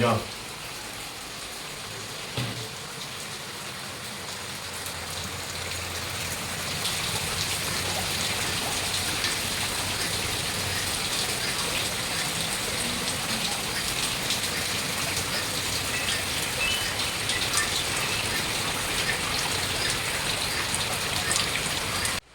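Heavy rain pours down steadily, a dense continuous hiss that grows louder after the first few seconds and keeps going.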